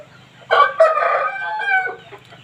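A Shamo rooster crows once loudly and close, its long harmonic call holding about two seconds, with a faint low farmyard hum underneath.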